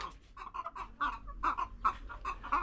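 Older backyard chickens cluck close by, a run of short, repeated clucks in an uneven rhythm.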